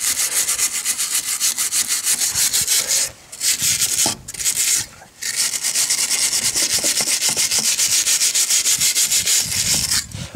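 A wire brush scrubbing metal parts on a salvaged MTD ride-on mower, a loud, harsh, continuous rasping in steady back-and-forth strokes with a few short pauses.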